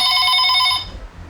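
A telephone bell rings in one bright burst of trilling tones, then stops abruptly, leaving quiet room noise.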